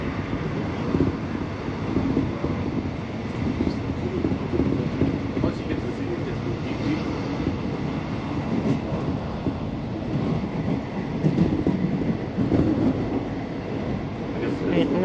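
A train running along a railway track, crossing from one track onto the southbound line, a continuous moderate rumble and rattle of wheels and carriage heard from on board, steady throughout.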